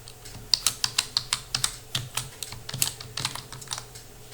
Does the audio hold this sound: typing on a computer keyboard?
yes